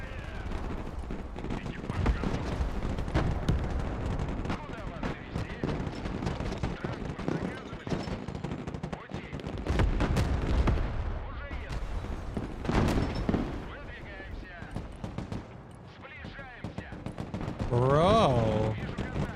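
A machine gun team fires in the Broken Arrow real-time strategy game, sending bursts of rapid gunfire and booms through a dense battle din, mixed with talk.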